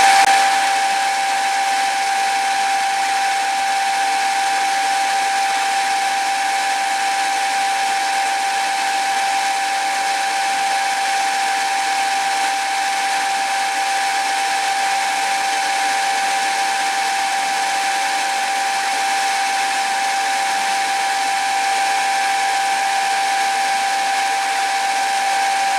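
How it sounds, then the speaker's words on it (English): A CNC machine turret moves to its tool change location, giving off a loud, steady mechanical whine and hiss with a constant high tone that holds unbroken throughout, with no speech. "So we're moving to our tool change safe location to rotate our turret."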